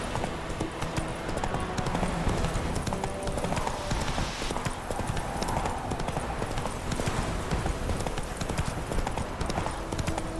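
Fast, dense hoofbeats of a galloping horse from Witcher 3: Wild Hunt, an even rhythm held for the full length, close and loud with faint ambient noise behind.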